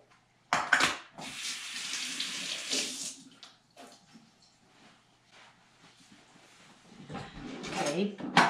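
Liquid from canned tuna and artichokes drains and splashes into a sink, with a steady pouring rush for a couple of seconds, then quieter drips and handling clatter, and another splash at the end; a voice speaks briefly.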